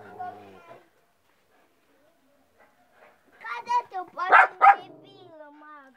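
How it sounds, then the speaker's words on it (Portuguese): Dogs give a handful of sharp barks close by outdoors, clustered in a short burst after a quiet stretch, with voices nearby. "Eita, por isso que os cachorros estão."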